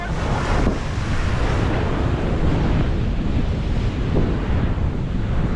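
Ocean surf rolls continuously onto the seashore with a loud, broadband wash and gusts of wind buffeting the microphone, with no talking.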